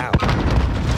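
A frag grenade blasts in Call of Duty: Modern Warfare, a single loud, close boom with a sharp onset that rolls into dense rumbling noise over a voice talking.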